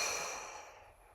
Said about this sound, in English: Exhale, let go.